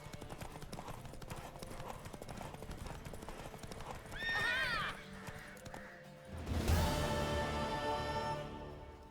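Rapid clip-clop of a galloping horse's hooves in a video game runs throughout, broken by the horse's loud whinny midway, then a heavy thud and continued rumbling movement.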